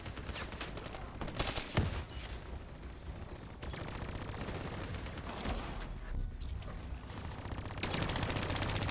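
Turret fire in the Call of Duty Black Ops 3 campaign rattles out in rapid bursts of automatic gunfire, loud and continuous with brief gaps and heavier blasts mixed in.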